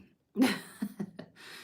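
A person sneezes once, close and fairly loud, followed by a few short breaths or sniffles, with no talking.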